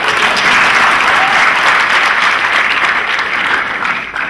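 An audience at an inspirational talk breaks into loud, continuous applause that holds steady and then begins to fade slightly at the end.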